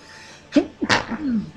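A single close, sharp human sneeze with a quick inhaled buildup and a loud burst, followed by a brief trailing vocal sound.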